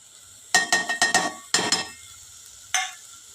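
Dry spices including turmeric and chili powder are stirred into a pan of mixed vegetables, producing a quick cluster of scraping, clinking strokes of a spoon against metal, then a pause and one final scrape, close and clear.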